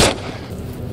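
A single loud shotgun blast from Into the Radius, a sharp close report at the start followed by a short decaying tail.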